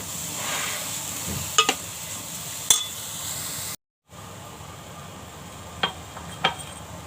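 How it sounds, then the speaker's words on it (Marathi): Coconut and sugar mixture being stirred in a pan over a low gas flame, a soft continuous sizzle with a few sharp clinks of the spoon against the pan and a brief dropout midway. "हे सतत ढवळत राहायचं बारीक गॅसवर."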